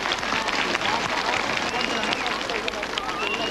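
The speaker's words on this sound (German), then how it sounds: "Und unsere Ratschläger kriegen den ersten großen Applaus." Studio audience at a 1987 German children's TV quiz show claps and cheers steadily, with excited children's voices and shrieks mixed into the dense, loud applause throughout.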